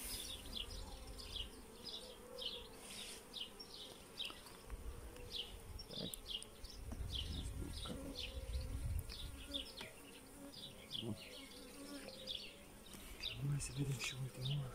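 Honeybees swarm loudly around an opened beehive, a dense continuous buzz with individual bees zipping close past, while a few people talk softly underneath.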